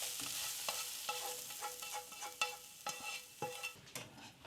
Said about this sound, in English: And now we stir it into the mince.